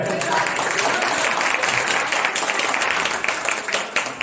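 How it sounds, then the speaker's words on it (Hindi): Audience applause at a Hindi poetry gathering in a Faridabad temple, a sustained wash of clapping from a seated crowd, moderately loud and steady, with some voices mixed in. "इतनी बढ़िया पंक्तियों पे तालियां कमजोर है।"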